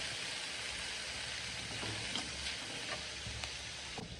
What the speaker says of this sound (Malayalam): എല്ലാം ചേർത്ത് നന്നായി 10 മിനിറ്റ് വരെ വഴറ്റണം.